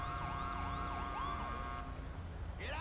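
Police car siren in the video game GTA V wailing in a repeated rising and falling pattern at moderate distance, then cutting off near the end, with a brief different tone and engine noise behind it.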